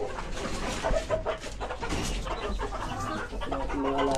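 Farm chickens cluck and chatter over one another at evening feeding time, several birds close by in a busy, uneven stream of calls.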